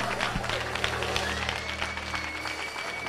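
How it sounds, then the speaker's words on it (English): Clapping from a church congregation during a prophetic service, a moderate steady patter of many hands with some voices mixed in underneath. "The way you are clapping, I can feel you."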